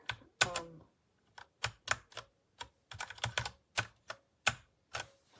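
Typing on a Redragon K617 Fizz 60% wired gaming keyboard with hot-swap keys, close and crisp, with irregular clusters of sharp key clacks separated by short pauses and no talking.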